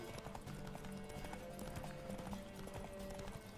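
Hooves of Roach, the horse in The Witcher 3, clip-clop in a quick steady gallop under faint game music and ambience.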